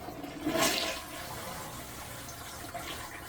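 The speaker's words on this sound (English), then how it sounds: "we go ahead and flush that." A toilet flushes close by with a loud initial rush of water that tapers into a steady refill hiss, with no talking.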